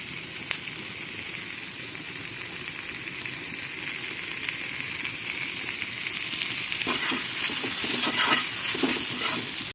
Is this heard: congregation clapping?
no